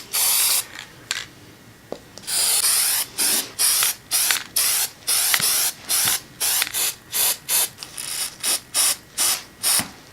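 Rust-Oleum gloss antique white spray paint sprays from a can onto a pinewood derby car in repeated short hissing bursts, each about half a second long, close and loud, with the can's rattle and clicks between bursts.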